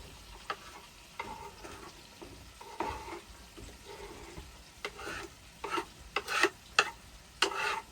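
Garlic and onion sizzling in a meat sauce over a camp stove, soft frying hiss with intermittent scrapes and clinks of a utensil stirring the pan, quiet and close.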